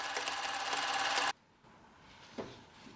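A sewing machine runs a rapid, steady stitching rattle through patchwork fabric scraps, seamed with a 5 mm allowance for a small unlined drawstring pouch, then stops abruptly, leaving quiet handling sounds and a soft thump.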